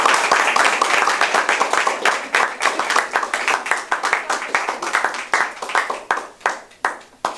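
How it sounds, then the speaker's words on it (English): An audience at a Toastmasters meeting applauds Vanna White with a steady, dense round of clapping that thins into scattered, separate claps near the end. The clapping is moderately loud and alone, with no talk over it. "get a round of applause for Vanna White"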